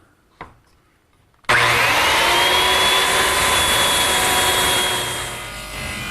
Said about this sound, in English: I'm going to use the circular saw to make the cut.